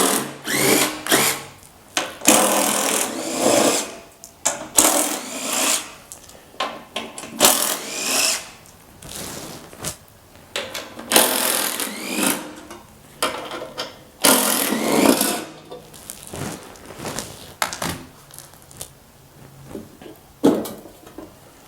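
Bolts being removed from the housing of an MTD Yard Machine snow blower with a power driver, repeated loud whirring bursts of a few seconds each with brief gaps between them.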